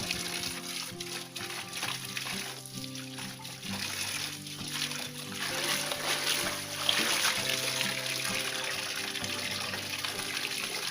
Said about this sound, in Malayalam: അപ്പോൾ നമുക്ക് ചീര ഒന്ന് കഴുകി വൃത്തിയാക്കി എടുക്കാം.